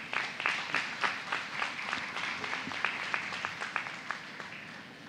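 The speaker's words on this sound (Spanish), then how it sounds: "Dame un aplauso, por favor." Steady audience applause at the opening of a human rights forum with the Inter-American Court, a dense patter of many hands clapping that holds evenly, heard from a moderate distance throughout.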